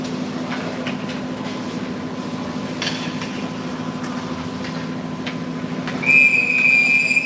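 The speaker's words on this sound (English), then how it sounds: "there's our whistle to get things started" A referee's whistle at an ice hockey game between the Richmond Generals and Genesis sounds as one sustained, piercing blast near the end, over a constant low arena hum with no talk.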